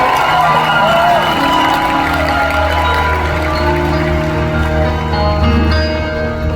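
Live comedy show audience in Chicago cheering and applauding for a singer, a loud, steady wash of clapping and shouts sustained throughout.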